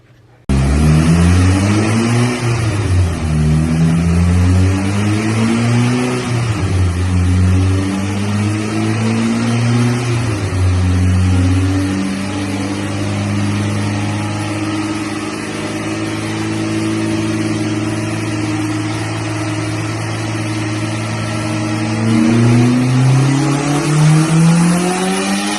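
A turbocharged Honda B18C engine with a Garrett turbo revs on a dyno run, climbing loudly and close through repeated rising pulls, then falling back between them, with no talk.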